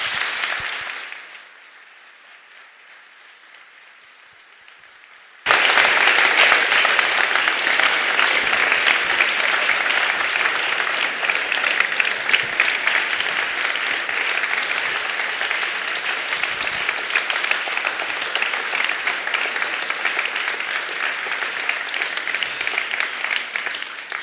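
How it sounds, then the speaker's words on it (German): Warm, sustained applause from a large audience at a live cabaret-and-philosophy stage event, starting abruptly after a brief quiet lull and continuing loud and dense as a steady wash of many hands clapping. "Vielen Dank, meine Damen und Herren, für diesen warmen Applaus."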